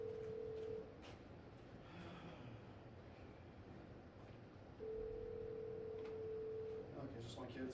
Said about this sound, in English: Give me a second, the phone's ringing.